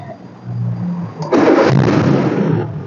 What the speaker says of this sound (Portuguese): Agora eu vou dar partida no veículo aqui.